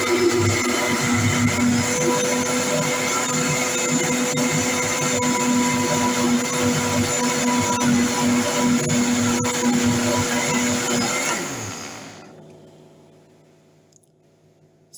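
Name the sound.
blender running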